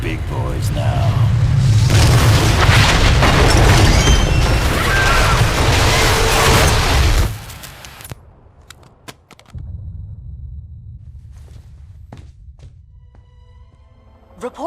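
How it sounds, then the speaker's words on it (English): A massive explosion rips through a residential neighborhood in Stamford, Connecticut, in Marvel Ultimate Alliance 2. It is a loud, sustained roaring crash lasting about seven seconds, which then drops abruptly to quiet ambience with scattered faint clicks. "Reports now coming in from Stamford, Connecticut indicate a massive explosion in a residential neighborhood."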